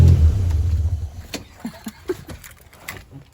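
A classic car engine gives one short rev that drops quickly back to idle, followed by a few light knocks and clicks nearby.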